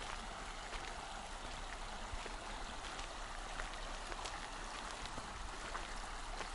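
Steady broadband rushing of the Iva river, a small stream near Perm, continuous and fairly soft with no voices.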